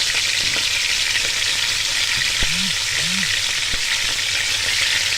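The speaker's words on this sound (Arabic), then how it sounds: "هنشوح اللحمة قبل ما نسلقها، نديها تشويحة كده يعني صدمة قبل ما نسلقها" Meat searing in hot ghee in a pot gives a loud, steady hiss and crackle that runs the whole time, with a few faint low knocks partway through and no talking.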